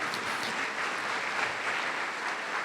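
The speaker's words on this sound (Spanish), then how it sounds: "Dele un aplauso al Espíritu Santo" Steady applause from a church congregation during a Spanish-language worship service, a dense continuous patter of many hands clapping at even loudness throughout, with no voices over it.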